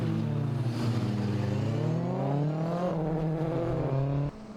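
A green Nissan S13 drift car slides through a corner at a drift competition, running without third gear; its loud engine roars and revs steadily with rising pitch before cutting off abruptly near the end.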